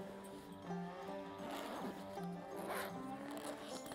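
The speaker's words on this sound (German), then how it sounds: "nutzt man den vorhandenen Reißverschluss" A zipper on a Scout Zero Bivouac paragliding backpack is pulled open in several close, rasping strokes, loud and crisp with brief pauses between pulls.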